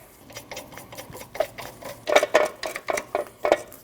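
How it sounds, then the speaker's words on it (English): Lug nuts are run down on a Nissan NV2500 wheel, a quick series of sharp metallic clicks and ratcheting taps that grows louder and denser toward the end, close by with no talk. "Now tighten down all your lug nuts."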